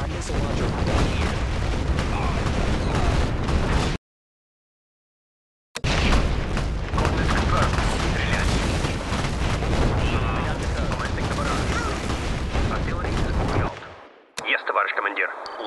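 A missile launcher barrage in EASB rumbles as dense, continuous explosions that cut out briefly and then resume, loud and overlapping, ending in a short burst of other game sound.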